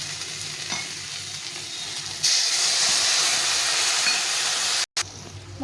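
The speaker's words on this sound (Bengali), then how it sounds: "দিয়ে আমি এই মশলা বাটি দিয়ে একটু জল দিয়ে দেবো" Water splashed into a spice paste frying in a pan, with a sudden loud hiss and sizzle that follows gentler frying and then holds steady, broken by one brief cut near the end.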